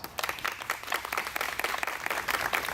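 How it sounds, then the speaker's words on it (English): A crowd at a Forest Park Memorial Drive street co-naming ceremony gives a round of applause for servicemen and women. The steady, dense clapping comes from a modest distance and continues without pause. "Please join me in a round of applause."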